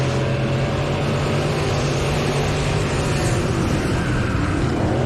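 Midwest Modified race cars at the Canby Fair race pour into turns one and two in a dense, continuous engine roar, loud and unbroken across the whole stretch.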